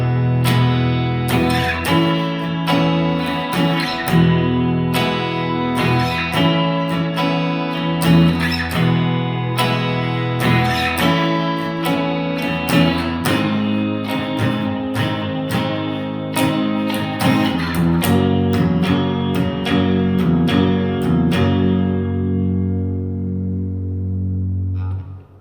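Guitar plays the chorus part of a song: strummed chords ringing in a steady rhythm with sustained notes, clear and close, no talking, ending on a fading final chord.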